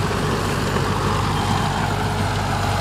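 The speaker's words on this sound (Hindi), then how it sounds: "ट्रैक्टर दब रहा है उसमें।" A tractor labouring under load while pulling a 10-foot Shaktiman rotavator through a field: a loud, steady, dense engine drone with churning noise, close and continuous throughout, no voices.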